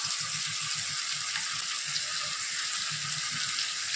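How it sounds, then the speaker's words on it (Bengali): Ginger garlic paste sizzles steadily in a hot pan, a dense continuous frying hiss with faint low clinks and stirring underneath, nearby and fairly loud, with no talking. "এরপর দিয়ে দেবো আদা রসুন বাটা"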